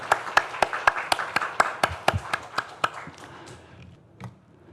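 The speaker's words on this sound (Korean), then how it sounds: "우리 크게 축복의 박수를 한번 드리겠습니다." A church congregation gives a round of clapping at a Sunday worship service: about a dozen evenly paced, unison claps that slow and thin out, ending with one isolated late clap.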